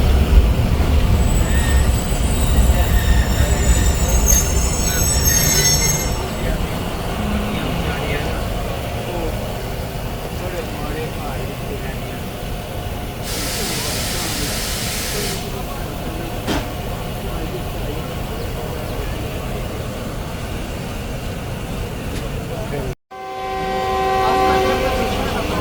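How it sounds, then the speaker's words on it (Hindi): A Subak Raftar railcar pulls away from a busy station after its departure whistle, a loud rolling rumble with a high whistle blast partway through, a person speaking over it. "तो जनाब सेकंड डिपार्चर विसल हो गई है और उसके साथ ही ट्रेन ने मूव करना शुरू कर दिया है।"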